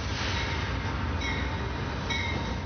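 A train travels on rails with a loud, steady rumble and rattle throughout, and faint squealing tones come through briefly.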